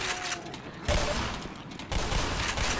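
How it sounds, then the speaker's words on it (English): Shotgun fire in the video game Synergy, several heavy blasts close together with dense broadband bursts, loud and near, mixed with other game noise. "It's a symphony of shotguns."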